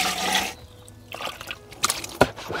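Water from a watering can trickling through straw mulch: a burst of pouring, then soft dribbles and a few sharp drips and splashes, close and fairly loud.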